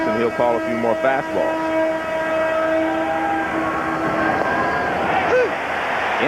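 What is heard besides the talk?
train whistle from the Burlington Northern line near the ballpark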